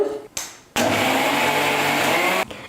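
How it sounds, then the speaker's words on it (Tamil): A mixer grinder grinds soaked semolina with a loud, steady motor whir lasting nearly two seconds, preceded by a short pulse and some handling clatter. No voices are heard. "மிக்சியில் போட்டு நம்ம நல்லா நைஸாக அரைச்சி பாத்திரத்தில் சேர்த்துக்கலாம்"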